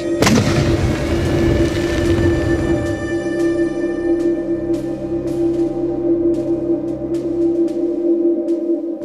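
A tripwire-triggered mine detonates in one loud, close boom that opens abruptly, then a long rumbling tail decays into a sustained hum, with faint crackles scattered after the blast.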